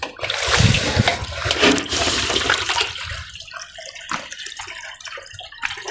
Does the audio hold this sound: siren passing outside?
no